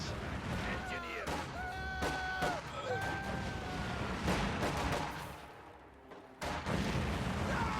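Gunfire and artillery blasts from a strategy video game battle, with conscripts firing across a road, come as dense, continuous crackling shots and booms, loud and near throughout, with a brief dip before the barrage resumes.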